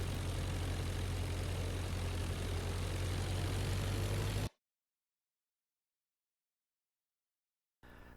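A propeller aircraft engine in the IL-2 Flying Circus flight game drones steadily and loudly on a landing approach into a headwind, cuts abruptly to silence midway, then briefly returns at the very end.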